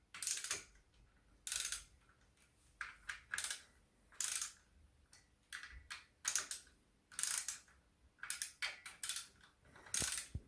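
A torque wrench tightens clutch cover bolts on a 1994 Honda CB Seventy-Fifty RC42 motorcycle in a workshop, giving repeated quiet ratcheting clicks in short uneven bursts with pauses between them, close and alone.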